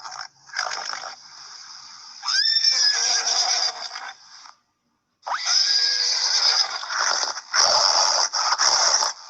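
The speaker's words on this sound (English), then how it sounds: "So, horse, the sound of horse is called neigh." Horse neighing repeatedly, loud shrill whinnies up close in several bursts separated by a brief silence, alone without any talk.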